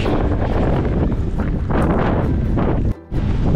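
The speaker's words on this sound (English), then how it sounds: "An update on the wind, it's brutal. It's really bad." Heavy wind, gusting around 35 to 40, batters the microphone in loud, continuous gusts on a mountain bike trail ride, a roaring buffeting rumble with a momentary dropout near the end.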